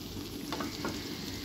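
Steady sizzle of ingredients frying in a pan while chowmein is cooked at home, a continuous crackling hiss with a couple of brief stirring scrapes, no voices.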